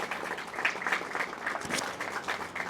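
A church congregation breaks into dense, continuous applause, a steady wash of many hands clapping at moderate volume for the whole stretch.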